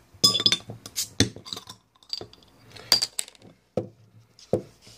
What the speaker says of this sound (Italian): andiamo subito a stapparla con il cavatappi della birra